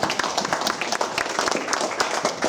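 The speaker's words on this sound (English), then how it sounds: "So a round of applause for everyone in the room." Wedding guests in a room clap together in steady, dense applause, a bright rattle of many hands that holds for a couple of seconds with no voices over it.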